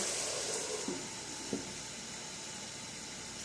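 Jamaican curry chicken with potatoes in a pan on a stove turned down to a simmer, giving a soft steady sizzle and hiss with a couple of small clicks, no voices.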